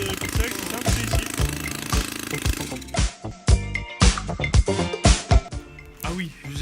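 Solex moped engine running with no exhaust pipe fitted, a loud rapid rattling and popping chatter with a low hum underneath, uneven bursts growing choppier midway, close to the listener.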